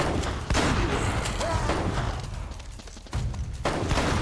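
Gunfire from the video game Uncharted crackles in dense, overlapping bursts with heavy thuds and booms, loud and close, set among busy in-game combat noise.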